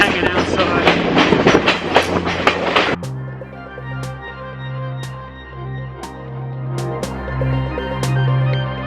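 Train from Ella to Kandy in Sri Lanka, heard from a carriage as it rattles along the tracks: a loud, dense clatter at first, then a steadier rumble with rhythmic wheel thumps and clicks.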